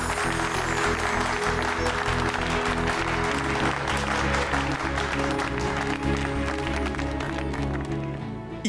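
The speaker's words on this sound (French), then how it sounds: "Applaudissons-les." A crowd of guests applauds a couple at a family ceremony, with dense, sustained clapping that stays loud and steady throughout under a bed of background music, easing slightly toward the end.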